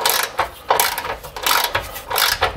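A ratchet removes a 10 mm chassis ground bolt on a Ram 1500 with a 5.7 L Hemi, fast repeated clicking in several short bursts, close and crisp, with no talking.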